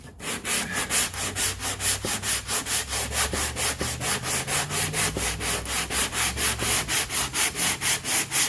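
Body filler on a car panel sanded by hand with light pressure, rapid rhythmic back-and-forth scratching strokes, close and steady throughout with no talking.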